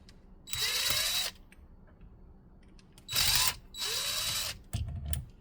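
A power drill backs out two screws on a Honda Ridgeline during an ignition switch lock assembly job, two close, loud whirring bursts with a brief third run at the end, quiet pauses between them.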